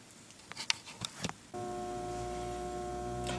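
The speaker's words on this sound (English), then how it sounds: "you can see I got this editor on. It makes that little humming noise there." An 8mm film editor switched on gives a steady electrical hum with sustained tonal lines, starting abruptly midway after a few soft handling clicks and continuing evenly to the end.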